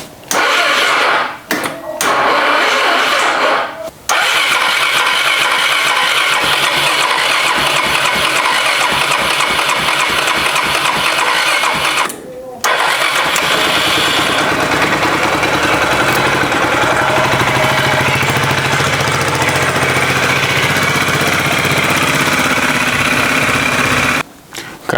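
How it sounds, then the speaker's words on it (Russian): A Suzuki Burgman 400 scooter engine with a half-dead battery cranks in several short bursts, then catches and settles into a rough, uneven idle that runs loud and close, with a higher-pitched whine building in the later part. "Как видим, скутер у нас запустился. Запустился он хреново, не сразу."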